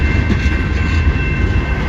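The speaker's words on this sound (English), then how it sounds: "it's the M33 southbound train, I think" A long CN freight train passes southbound near South Rockwood, its steady broadband rumble and rail noise continuous and fairly loud throughout, with no voices.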